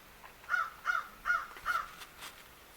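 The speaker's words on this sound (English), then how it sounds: "It's fall, y'all, and the birds are letting me know that" Four loud crow caws in a steady rhythm outdoors in fall, each harsh call evenly spaced and fairly near, followed by fainter bird sounds.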